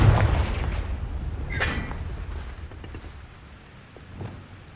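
A Confringo spell explodes in Hogwarts Legacy with a deep, booming blast that rumbles and slowly fades. A second, sharper crackling burst follows a moment later, then a fainter thump near the end.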